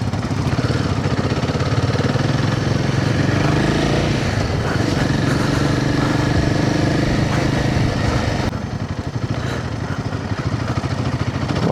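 A 100cc motorcycle riding along, its engine a steady loud droning hum close to the listener, easing off slightly near the end, with no talking.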